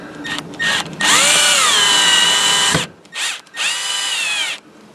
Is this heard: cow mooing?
no